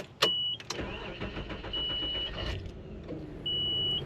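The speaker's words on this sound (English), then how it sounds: "Coming off the starter, when you let off of it, let's try it again. It'll make that little noise." A 1995 Nissan Pathfinder XE starter cranks with a close, rapid whirring grind and a thin high whine that lingers briefly as the key is let off, then sounds again for a moment after a short pause.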